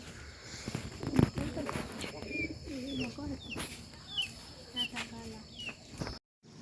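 Pigeons coo softly in repeated short calls nearby, with people talking and a few scuffling steps in the background.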